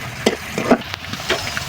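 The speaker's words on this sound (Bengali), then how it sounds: "আমি এই তেলটার ভিতরে পেঁয়াজ কুচি দিয়ে দিব।" Chopped onion with pieces of cinnamon and cardamom frying in oil, a close hiss with several quick stirring scrapes and taps spaced through the short moment.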